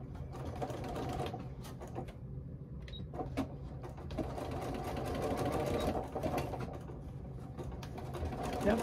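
A sewing machine stitches fringe trim in quick, continuous runs of rapid mechanical clatter, pausing briefly between bursts, close and fairly quiet.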